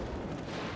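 Battleship main guns firing in World of Warships Legends, a deep sustained boom rolling on with a dense low rumble throughout, loud and alone with no voices.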